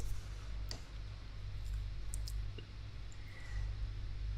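Light, sparse clicks of keys typed on a computer keyboard, faint and close over a low steady hum, with no talk.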